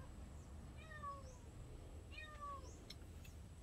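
A hungry cat meows twice for food, two clear rising-falling calls about a second and a half apart over steady outdoor background noise, with no talking.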